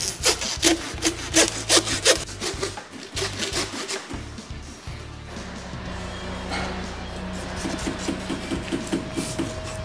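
Steady back-and-forth sawing strokes through pork ribs, rhythmic and close, rasping through tough material; the pace slows midway, then resumes with lighter strokes.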